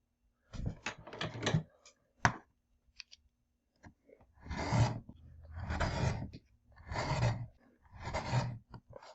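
Quilt fabric seam allowance is trimmed in a series of crisp, rasping cuts, first quick clustered snips and then four longer, evenly spaced strokes, close and clear with quiet gaps between.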